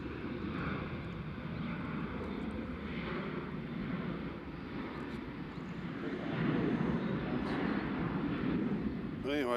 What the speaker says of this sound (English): this is British Airways coming in from London Heathrow